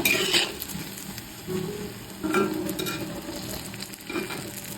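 Fritters of ripe papaya, sweet potato, banana and semolina batter frying in oil, sizzling steadily up close with intermittent scraping and clinks of a utensil against the pan.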